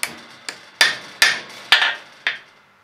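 Hammer tapping a bolt press-fit in a chef knife tang to adjust its alignment, six sharp metallic taps at irregular intervals, close and clear with short ringing decays.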